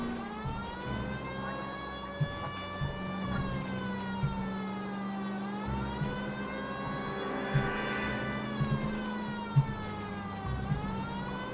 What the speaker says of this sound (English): the siren was supposed to get these people out of your way